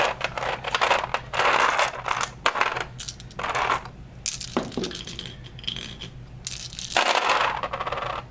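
Many dice rolled together in a tabletop wargame between Tyranids and Primaris Ultramarines, a loud clattering rattle repeated in several separate bursts, each roll scattering and clinking across the table up close.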